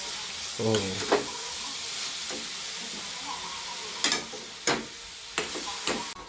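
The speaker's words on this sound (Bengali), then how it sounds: "মানে নারকেলটা এখন অনেকক্ষণ ভাজা হবে" Grated coconut fries with sugar in a pan as a sweet filling for patishapta pitha. A steady sizzle runs underneath, with several sharp scraping stirs of the spatula, mostly clustered in the second half.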